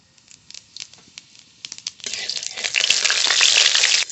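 Whole cumin seeds tempering in mustard oil in a wok: scattered faint pops and crackles, then a sudden loud, continuous sizzle for the second half.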